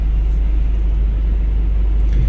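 Inside the cabin of a 2011 Ford Endeavour automatic 4x4 diesel SUV, the engine gives a deep, steady, loud roar as the vehicle pulls away, with no talking.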